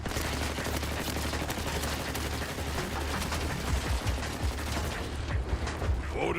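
Several turrets open up in Borderlands 4, a dense, continuous wall of rapid gunfire and mechanical rattling with heavy low rumble that keeps up throughout at high volume.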